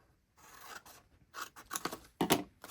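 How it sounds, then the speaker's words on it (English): Scissors snip a corner off a paper square, a few quiet close cuts and crisp snips in quick succession. "Cut 1 corner off, and you can look at it and see which one you want to cut."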